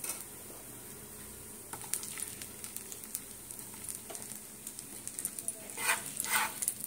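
Potatoes fry in oil already used for chickpea chaat, a quiet, steady sizzle with small crackles and spatters growing busier toward the end, no voice heard.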